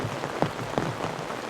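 Torrential downpour at a wild-river canoe campsite, a dense, steady hiss of rain pounding surfaces with a couple of sharper drop impacts, close and enveloping, with no talk.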